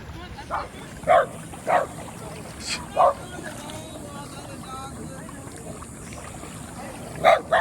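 Short, scattered barks from a dog at a moderate distance over a steady rush of wind and water at Dog Beach Island, Lovers Key, with quiet voices in the background.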